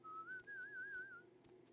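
Whistled melody from the Morrowind soundtrack, a single clear tone wavering and gliding smoothly for about a second over a soft musical backdrop, then fading out.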